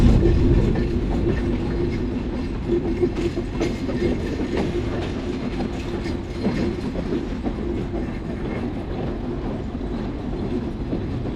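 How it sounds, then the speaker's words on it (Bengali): A train in Khulna, Bangladesh, leaving Nareshpur station rumbles steadily along the rails, a continuous low roar with faint rhythmic clatter of wheels throughout, close and fairly loud. "তো ট্রেনে জার্নি করতেছি"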